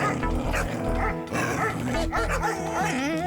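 Cartoon dogs gathered for a seminar bark and yip in quick, loud bursts mixed with whimpers, under a busy animated soundtrack.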